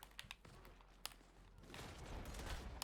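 Shooter video game gunfire, a few sharp distant shots scattered over a busy muffled background, with a rising din of louder rapid fire toward the end.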